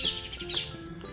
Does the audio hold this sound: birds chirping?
yes